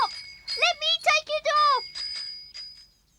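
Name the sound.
bicycle bell ringing on Jumbo's tail in Noddy cartoon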